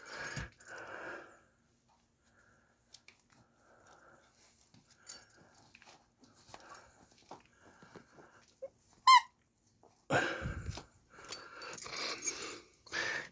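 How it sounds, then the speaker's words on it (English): An Elvis squeeze toy for dogs squeaks once in a quiet apartment, a brief shrill squeal amid sparse handling clicks and rustles, followed by louder bursts of rustling. "an Elvis squeeze toy for dogs"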